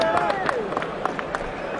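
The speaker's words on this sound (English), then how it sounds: "He deserves that applause" Crowd applause at a British boxing fight night, dense clapping with scattered sharper claps and a babble of voices mixed in, sustained and fairly loud throughout.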